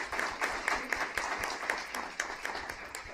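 A small group claps at a Santa Monica city council meeting, producing faint, quick, evenly spaced hand claps that carry softly through the room for a few seconds.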